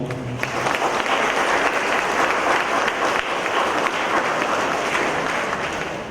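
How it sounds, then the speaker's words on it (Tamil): A church congregation at a bishop's First Communion and Confirmation mass applauds the children, sustained full-room clapping for several seconds that eases off slightly near the end. "கைத்தட்டி அவங்களை வாழ்த்துவோம்."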